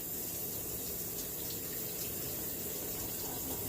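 Tap water runs into a clean pot being filled for white rice, a steady, even rush that holds without a break from start to finish.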